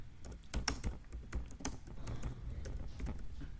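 Typing on a computer keyboard, a quiet run of close, uneven key clicks and taps with a few sharper strikes near the start, soft and with no voice over it.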